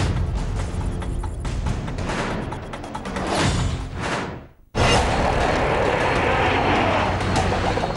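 Military aircraft at an Indian forward air base in Ladakh: a loud, continuous broadband roar that briefly dips nearly to silence before surging back at full strength, close and overpowering.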